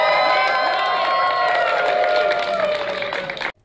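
An audience at a convention panel cheers and shouts loudly in a dense crowd roar that holds steady for over three seconds, then cuts off abruptly.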